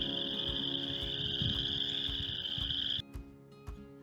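A frog identified as a coarse frog calls in a field recording, with steady croaking pulses under a high, continuous insect buzz that drops out near the end, leaving faint background.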